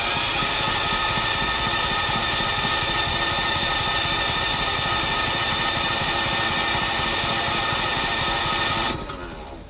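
A 186F Yanmar clone diesel generator engine runs loud and steady at close range, a dense, even mechanical clatter and drone that holds for about nine seconds and then cuts out abruptly.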